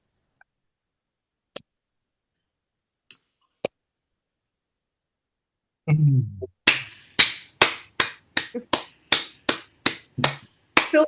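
Scattered faint clicks give way, after a brief spoken word, to a string of about ten sharp, close, evenly spaced hand claps as an online video-call participant unmutes to applaud readers at a poetry magazine issue launch.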